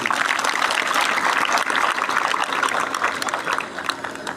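Steady applause from a crowd, a dense wash of clapping that holds loud throughout and eases slightly toward the end.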